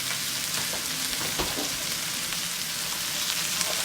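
A healthy stir fry, including lettuce, sizzles steadily in a pan, a dense, continuous hiss of frying with occasional soft crackles and faint stirring, close and even throughout.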